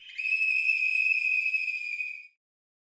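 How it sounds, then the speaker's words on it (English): A single shrill whistle blast, held steady for about two seconds and then cut off, loud and close. "Hey, blow the whistle!"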